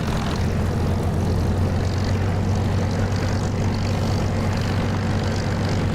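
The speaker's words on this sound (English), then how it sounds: "But the engine sound from Echo 19 is beautiful." A propeller aircraft engine in the DCS flight simulator produces a steady, loud droning roar with a deep low hum. It runs unbroken and evenly throughout, with no talking.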